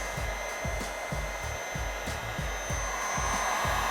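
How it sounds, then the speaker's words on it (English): A heat gun on its middle setting blows a steady, close airflow roar across protective film on a Toyota Tacoma headlight, with faint rhythmic low thumps running underneath throughout. "All right, so we got our heat gun right here."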